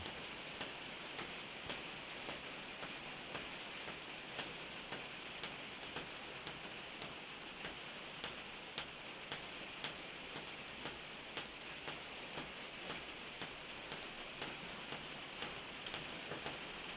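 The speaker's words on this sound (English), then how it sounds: "Listening to the rain." Steady rain falls continuously, with soft droplets pattering on a surface and faint ticking taps throughout, no voices.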